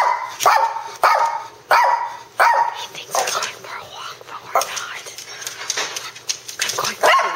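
A dog barks in short repeated bursts close by, with a person talking to it in between and a few softer yelps and whimpers under the voice.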